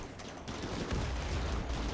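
Explosions and gunfire during a RimWorld battle, a dense, continuous roar of blasts and shots that stays loud throughout with no clear gaps.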